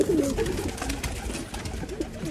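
Pigeons coo at a loft as a cock bird is coaxed back inside, a few low warbling calls close by over a busy outdoor background, with no talking.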